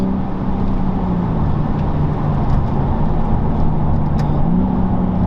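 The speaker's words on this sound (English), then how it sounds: "The gear changes are so fast." A 2021 BMW M3 Competition's engine drones steadily and loudly throughout, with slight rises in pitch through acceleration and very fast gear changes, recorded from inside or close by.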